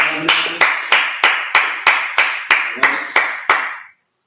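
Congregation clapping at the opening of the Feast of Tabernacles: about eleven sharp, evenly spaced claps in a steady rhythm, each ringing briefly in a reverberant room, then stopping abruptly.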